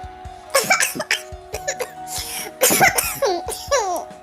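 A person coughs repeatedly in short harsh bursts, mixed with laughter and vocal sounds, close and fairly loud.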